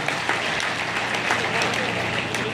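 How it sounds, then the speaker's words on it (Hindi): Steady, loud applause from a crowd, sustained without pause from start to finish. "जोरदार ताली बजाइए"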